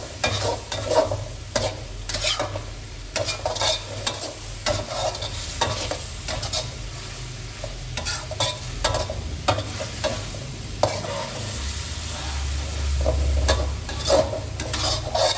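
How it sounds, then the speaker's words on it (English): Thai garlic pepper chicken stir-fried in a thickening sauce: a steady close sizzle broken by frequent rhythmic scrapes and clacks of a spatula against the pan, with no voices. "Stir and fry until the sauce thickens and the meat is thoroughly cooked."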